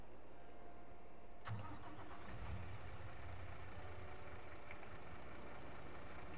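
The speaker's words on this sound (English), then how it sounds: "Because I can hear the truck is still on." A truck engine idles steadily in the farming video game Farming Simulator 22, a low continuous rumble that fills the whole stretch, with a brief louder rise near the start and no talk.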